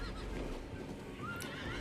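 A horse whinnies briefly in Diablo 4 over a steady low hum of background noise, faint and somewhat distant.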